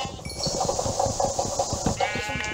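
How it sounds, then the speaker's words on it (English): Sheep in a block-building video game, repeated short nasal bleats in a quick irregular rhythm, loud and close with no talk over them. "I'm gonna kill these dumb sheep."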